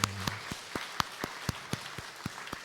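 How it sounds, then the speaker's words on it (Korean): Welcoming claps in a church service during Sunday worship, a sparse, slow rhythm of about ten distinct hand claps, quiet and somewhat distant, no talking. "그냥 환영하는 박수 하려고 그래요."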